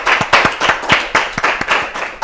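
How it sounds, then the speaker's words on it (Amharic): Studio audience on a children's TV show applauding a child, loud close clapping from many hands in an uneven, continuous patter. "አጨብጭቡላት እስቲ አጨብጭቡላት"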